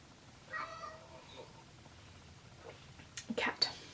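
A cat gives a short, fairly faint meow early on, followed by a couple of sharper, louder cat cries near the end, set against quiet background hiss.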